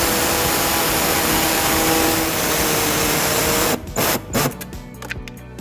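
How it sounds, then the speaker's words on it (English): A pneumatic air saw cuts through the plastic underbody panel of a 2013 Lexus RX350 for a trailer hitch. The blade makes a loud, steady buzzing rasp for a few seconds, then stops and starts in short bursts. "we're going to be using our air saw to cut that."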